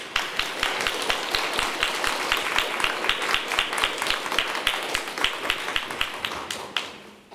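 An audience at a lecture-concert welcomes a violinist and a fellow performer with a steady round of applause, sharp claps in a brisk even rhythm that carries on for several seconds before trailing off, near and fairly loud.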